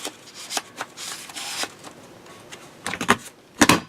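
Paper punch pressed down through two layers of card stock while making a Valentine card, giving a few short crunching and rustling bursts close up, with a sharper snap near the end.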